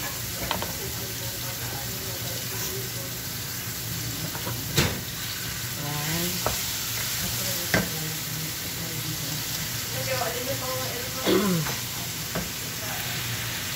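Chicken pieces fry in a pan with minced garlic, making a continuous crackling sizzle close by, broken by a few sharp utensil clicks and scrapes as the meat is stirred and turned.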